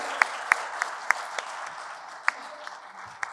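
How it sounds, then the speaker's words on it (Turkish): Audience applause at a short film competition award ceremony as nominees come on stage: a steady spread of clapping across a crowd with a few sharper, closer claps punctuating it, moderately loud throughout. "Evet alkışlarla alabiliriz bence sahneye"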